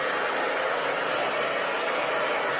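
Loud, steady hiss of air blowing dust out of a deer head mount during taxidermy work, a continuous whoosh close by without a break or any talking.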